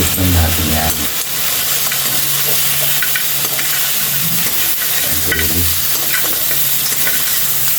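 String beans adobo stirred and frying in a pan, a loud, close, steady sizzle with repeated scraping strokes of the spoon throughout, no talk.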